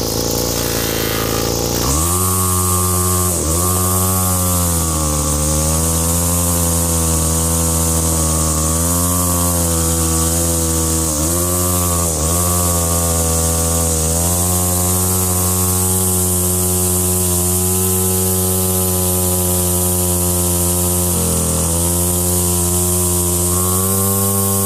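A trash-found Weed Eater string trimmer runs after a cleaning and fuel line rerouting, its small two-stroke engine droning loud and close for over twenty seconds, with brief dips and rises in pitch as it revs.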